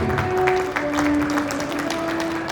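Audience at a school investiture and felicitation ceremony applauding, a brief steady wash of clapping in a hall with a faint sustained tone running underneath.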